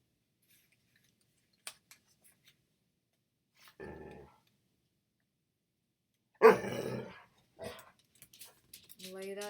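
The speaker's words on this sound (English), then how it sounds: "my dog wants to go outside" A dog lets out a few short, close barks in an otherwise quiet room, separated by silence, with scissors snipping and brief bits of speech around them.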